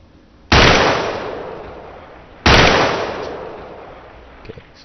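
Two loud, sharp rifle shots from the ARMA 2 video game, about two seconds apart, each cracking out and then trailing off in a long, rolling echo, with a few faint clicks near the end.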